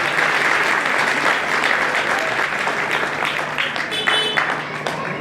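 An audience at a Ramayan recital claps steadily for several seconds, a dense wash of applause that tapers slightly toward the end.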